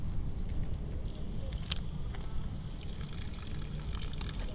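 Water is poured and trickles steadily for a rescued frigatebird, a continuous close splashing and gurgling with a few small knocks, and no talk over it.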